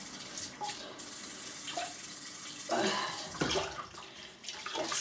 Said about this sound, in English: So let's move on to just washing my face once more.